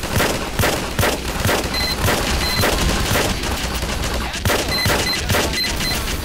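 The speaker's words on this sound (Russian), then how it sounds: "У тебя тут серьезный пулемет, я вижу." Rapid bursts of machine gun fire in the Garry's Mod Starship Troopers game mode, loud and dense gunfire with booming impacts running continuously throughout, sharp repeated shots layered over a thick roar of combat.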